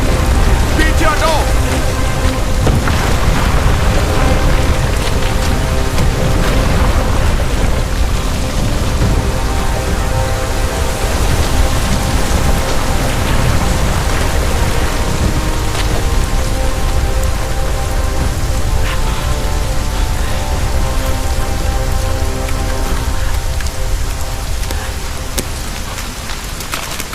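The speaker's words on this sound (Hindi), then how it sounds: "ओले गिर रहे हैं, चलो भागो।" Hail pours down heavily in a dramatized disaster scene, a loud, dense, continuous clatter with rumbling low tones beneath, sustained throughout and easing slightly toward the end.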